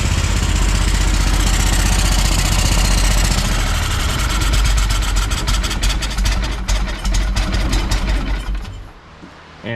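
A rebuilt Kohler CH20 engine for a Walker mower runs roughly up close, its uneven idle sputtering and knocking, then sagging and nearly stalling near the end.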